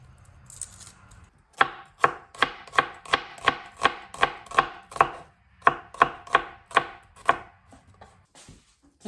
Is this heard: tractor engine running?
no